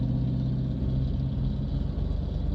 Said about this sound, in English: You should get your muffler checked though.